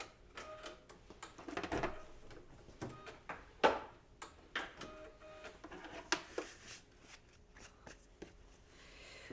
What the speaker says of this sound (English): We are going to stitch a placement line for our bunny's ear.